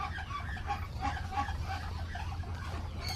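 Chickens cluck on a farm in a continuous, moderately loud backdrop of overlapping hen calls, with low rumbling noise underneath and no clear talk.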